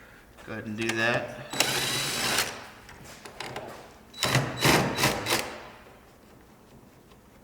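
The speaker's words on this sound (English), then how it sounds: "First, we're going to remove these 3 bolts." Bolts being removed from the plastic headlight housing of a Promaster van: short bursts of ratcheting and rattling tool noise, close and fairly loud, with a person speaking briefly between them.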